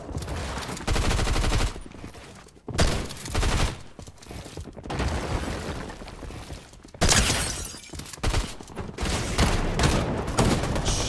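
Rapid bursts of Fortnite gunfire in a tournament match, loud and dense, with several clustered volleys and sharp impacts separated by brief lulls.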